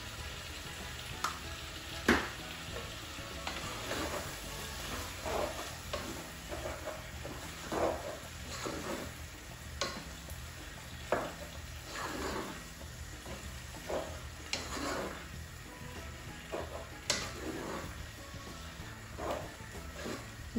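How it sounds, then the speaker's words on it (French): Spinach simmers and sizzles in a pot for a dish with smoked fish and beef, a soft continuous frying hiss broken by scattered light stirring scrapes and taps, quiet and close. "Vous voyez comment ça mijote bien les épinards"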